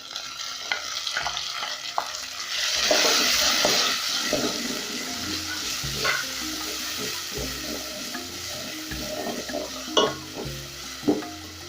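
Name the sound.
tomatoes frying and stirred with onions in a pan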